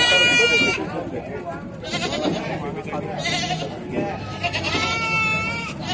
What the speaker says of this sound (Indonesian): Kambing Jawa kacang.